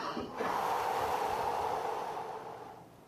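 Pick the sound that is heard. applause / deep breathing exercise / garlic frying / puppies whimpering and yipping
deep breathing exercise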